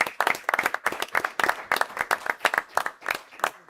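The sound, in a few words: audience applause at a school board meeting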